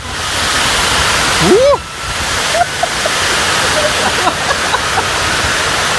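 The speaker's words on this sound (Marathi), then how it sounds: "शप्पट खतरनाक पाऊस आहे यार" Heavy monsoon rain and strong wind at the Marleshwar temple in Konkan make a loud, continuous roar, with a brief voice cutting through early on.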